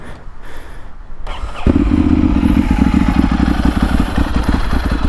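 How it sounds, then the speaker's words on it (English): A Ducati Monster 796 motorcycle fitted with an aftermarket exhaust system fires up after a short cranking, then settles into a loud, close, steady rumbling idle. "Let's start it up a little bit so you can hear how she sounds with this system on it."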